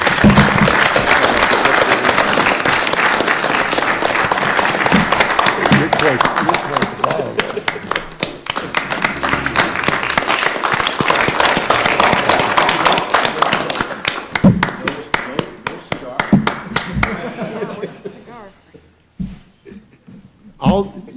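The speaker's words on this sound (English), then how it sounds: "let's give all of them a round of applause" An audience at a finance committee meeting gives a sustained round of applause for committee members, dense clapping that stays loud for most of the stretch before thinning out and dying away near the end, with a little laughter.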